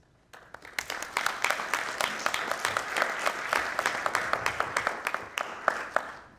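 Applause at a Day of Action rally to save the Post Office, starting abruptly and building into a crowd of hands with individual sharp claps standing out, fairly close and steady for several seconds.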